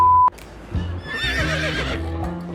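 A horse neighs in a clear, rising whinny that rings out loud and close after a brief tone, with faint background noise and no talking.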